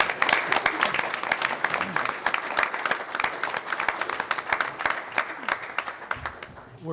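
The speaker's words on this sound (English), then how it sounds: "let's have a big round of applause for our fire department and our police department" A council meeting audience gives a round of applause honoring the fire and police departments: sustained, fairly loud clapping throughout, tapering slightly near the end.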